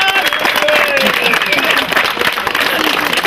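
Loud, sustained applause from a crowd at a biking race awards ceremony for the Žilinská 1000ka, with someone speaking over the clapping throughout.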